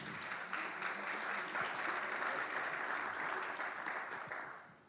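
An audience claps steadily for several seconds, a dense wash of applause that fades out toward the end.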